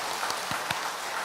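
A church congregation claps along during a Korean worship service: a brief, dense patter of many hands at steady loudness, with no voices over it.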